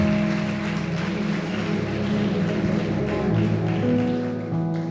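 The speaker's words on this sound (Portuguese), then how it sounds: "Meus irmãos, você pode aplaudir o Senhor Jesus por essa palavra?" A church congregation applauds steadily for the whole stretch, a dense, even wash of clapping with sustained musical tones humming underneath and no talking over it.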